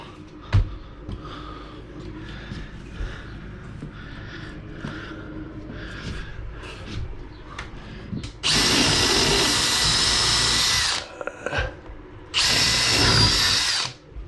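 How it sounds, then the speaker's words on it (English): Nearby, a power drill whirs loudly in two long bursts, driving self-tapping screws while mounting a bike rack, after a stretch of quieter handling noises and a single sharp knock. "It's not the full size drill, but even though these are self-tapping"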